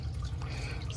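Water splashes and trickles briefly as it rinses soapy foam off toy trucks, a short close-up pouring sound with no talking.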